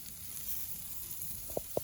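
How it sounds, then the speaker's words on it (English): Soft, steady sizzling hiss from chicken cooking on a charcoal grill with cherry wood, with a couple of faint pops near the end. "It's sizzling away, if you can hear it."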